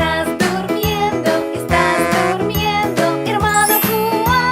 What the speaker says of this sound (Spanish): Suenan las campanas, din dan don, din dan don